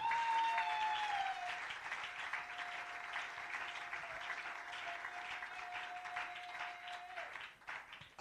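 A church congregation applauding, a dense sustained wash of clapping that carries on throughout with a singing voice over it, fading slightly near the end.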